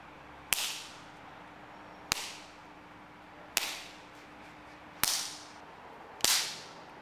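Someone practicing Southern Praying Mantis kung fu whips an open hand into their own palm, producing five sharp, loud slaps at roughly even intervals, each with a brief ringing tail.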